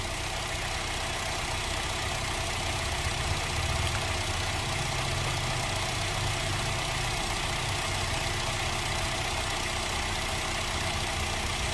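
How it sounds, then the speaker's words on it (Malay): A car engine idles steadily during a battery charging test, a continuous low rumble held at a constant level with no speech over it. "Ok, dah start engine."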